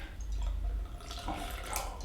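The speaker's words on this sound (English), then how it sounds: "Just give them all the drops." Last drops of Longrow Red Pinot Noir whisky dribbling from a bottle into a glass, a soft trickle and a few drips close by, over a low background rumble.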